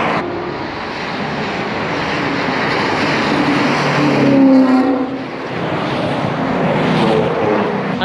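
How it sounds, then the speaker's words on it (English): A supercar speeds past on the Homestead race track near Miami, its engine roar swelling and fading with a jet-like rushing whoosh from protective tape flaps fluttering on the hood, loud and close, with no talking. "I think that jet wind sounding thing is actually just the protective tape they have over the hood. You just hear the shh of the little flap things going off."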